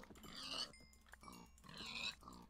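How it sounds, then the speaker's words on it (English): Pigs oinking in the survival video game Cube Survival, two bursts of snorting grunts roughly a second apart, fairly close, with no talk over them. "I have an astounding pig population."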